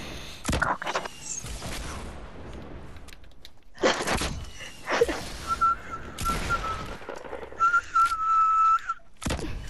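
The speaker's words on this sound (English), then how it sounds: "I'm whistling between my teeth." Someone whistles between their teeth, producing thin sustained tones and short whistled bursts, set against intermittent sharp thuds and gunfire-like bangs from a game, with no speech.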